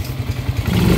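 A Honda Alpha 125 motorcycle engine idles and revs briefly, a rough low chugging that rises slightly near the end, close by.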